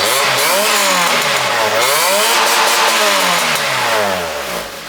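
A B20B-swapped Honda Integra engine revs hard through a custom exhaust system, its pitch rising and falling across several loud, close throttle blips, with a slight raspy edge that may carry small pops.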